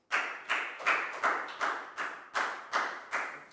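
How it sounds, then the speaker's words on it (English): Applause in a Year 4 maths classroom comes as about nine evenly spaced, crisp claps in a steady rhythm, fairly close and with no talking over them. "a big round of applause for Nadia, guys"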